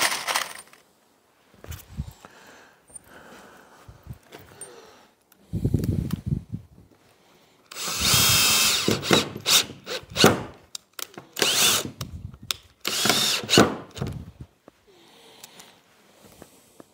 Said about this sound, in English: I'm going to go ahead and put the screws in this end.